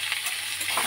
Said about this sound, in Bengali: এগুলো দিয়ে আলুটার সঙ্গে একটু কষে নিচ্ছি